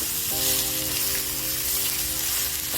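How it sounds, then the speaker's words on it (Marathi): Chickpea greens sizzle and crackle steadily in a hot pan at close range, a continuous frying hiss with faint stirring and a low tonal hum underneath. "परतवून घेऊया"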